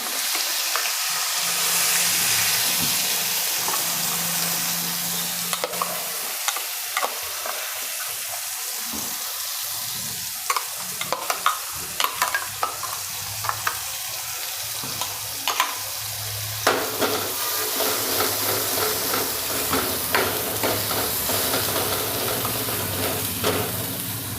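Ground paste for kaju malai curry fries in a hot pan, making a continuous broad hiss and crackle with scattered sharp pops and occasional stirring, steady and close.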